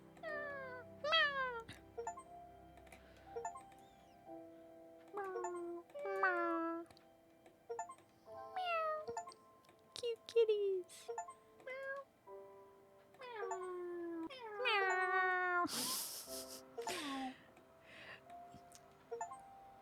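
Human voices imitate cat meows in the video game Cats Hidden, a long run of short, high, sliding meows that repeat in clusters, fairly clear and close, with a sharp noisy burst near the end.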